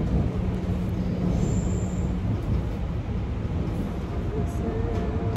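Train approaching a station in South Korea, a steady rumbling roar of rail wheels with a brief high squeal, heard from nearby on the platform.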